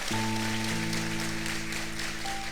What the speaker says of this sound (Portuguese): Vamos aplaudir o padre?